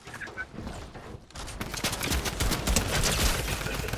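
AK rifle gunfire in Fortnite rattles out in rapid, sharp bursts that grow denser and louder after a quieter start, with a busy game-audio backdrop.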